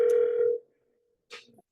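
An unanswered telephone call rings once as a steady electronic tone, then cuts off into silence before a brief soft noise follows.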